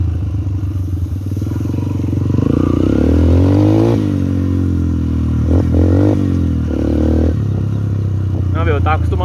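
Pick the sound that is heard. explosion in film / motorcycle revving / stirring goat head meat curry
motorcycle revving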